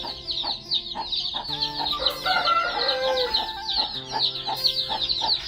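Chickens on a farm house in Vizag cluck repeatedly and close by, and a rooster crows over them. The busy, rhythmic clucking carries on throughout without talk.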